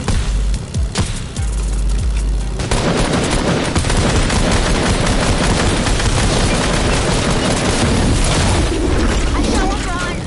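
Video game battle gunfire crackles in dense, rapid bursts, near and loud, with mechanical clatter and a few heavier booms, continuing almost without pause after a quieter opening.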